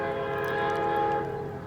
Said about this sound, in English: I believe that's an auto rack train.